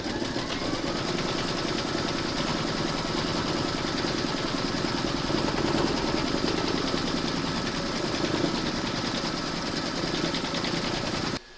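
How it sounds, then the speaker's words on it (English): An embroidery machine stitches the backing onto a large gnome applique in the hoop, a fast steady mechanical whirr and needle clatter that runs without pause and ends abruptly, close-up with no voices. "Pop your hoop into your machine and stitch round number 7 to attach the backing."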